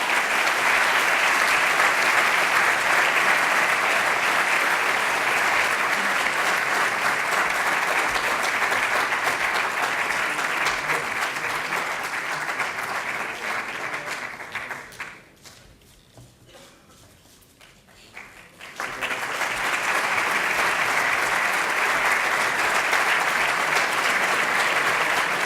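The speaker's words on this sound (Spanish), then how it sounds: "Un fuerte aplauso para el premio." At a finance awards night, the audience gives loud, sustained applause for an award. It briefly dips to near quiet partway through, then resumes at full strength.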